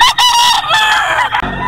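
Bulik rooster crowing loudly and close, a single strained cock-a-doodle-doo lasting most of the moment, alone without talk.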